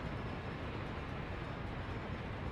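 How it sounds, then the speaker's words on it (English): A train rolls through a Workers and Resources rail network, a steady unbroken rumble of rail cars that holds an even level from start to finish with no voices over it. "There's a train triggered here."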